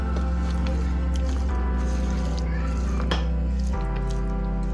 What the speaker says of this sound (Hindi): अब इसमें हम फ्रांस बीन शामिल कर देंगे। इसे मिक्स करेंगे अच्छी तरह।